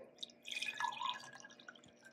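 Water poured from a tap into a cup for a drink, a soft trickling fill lasting a couple of seconds, close and quiet with light splashing.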